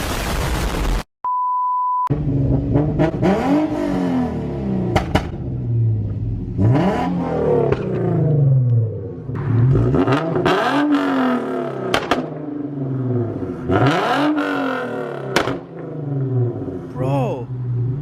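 Tuned Infiniti Q50 sedan revving hard in a series of loud, sharp throttle blips, each rising and falling away, after a brief electronic beep, with people talking in between.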